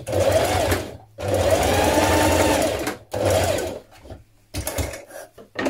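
A sewing machine stitches a short end seam on a folded jeans zipper shield, running in three close bursts of fast, even whirring with brief pauses between, followed by lighter clicks and handling noises.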